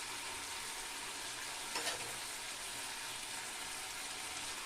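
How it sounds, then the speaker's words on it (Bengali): Crab and spice paste frying in oil in a pan over low flame, a steady close sizzle and crackle with a brief stirring scrape, no talk. "মশলাটাকে সুন্দর করে কষিয়ে নিতে হবে আরও একটু কষাবো"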